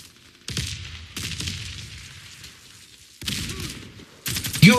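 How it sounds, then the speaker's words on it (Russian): Gunfire and an exploding grenade in the shooter game Warface: several loud bursts of rapid fire separated by brief lulls, closing with a sharp blast and ringing, metallic game effects. "Кидаю гранату."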